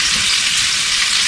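Meat searing in a hot pan, a loud continuous close sizzle and spatter with no pauses and no voices.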